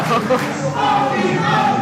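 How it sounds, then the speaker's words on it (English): A wrestling match crowd chants in unison for the wrestler called the funky monkey, a loud, rhythmic arena roar that carries steadily throughout. "There goes that funky monkey chant."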